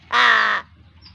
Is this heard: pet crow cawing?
yes